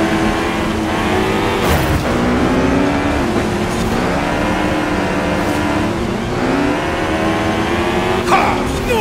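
A lowered, tuned gold BMW M4 race car roars through a night street race, its engine revving and shifting in a loud continuous wail with rising and falling pitch; no voices.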